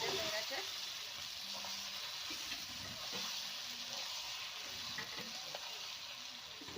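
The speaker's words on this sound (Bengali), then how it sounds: "এখানে আমি একটু চাপা দিয়ে ভেজে নিচ্ছি।" Steady sizzling of food frying in a covered pan, a continuous hiss with faint clinks of stirring throughout.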